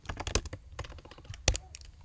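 Quick, uneven keystrokes on a computer keyboard as network configuration commands are typed into a terminal, close and crisp, with one harder key strike near the end.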